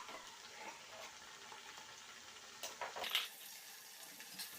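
Onion, green chili and tomato paste for thieboudienne sizzling steadily in a pot while being stirred, with soft scraping and a brief clink of a utensil against the pot.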